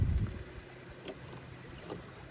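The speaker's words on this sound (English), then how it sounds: "The winds were supposed to have calmed some by now, but they just haven't. It's just still blowing." Wind gusts buffet a sailboat at anchor, a hard low rush at the start that eases into faint, steady blowing with small later puffs.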